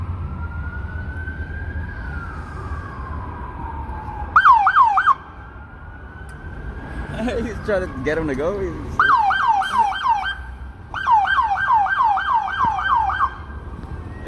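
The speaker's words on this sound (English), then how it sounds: "I hear more sirens" Wailing and yelping emergency vehicle sirens rise and fall through a street protest in Los Angeles, coming in several loud bursts over a steady crowd murmur. Someone speaks briefly in the middle.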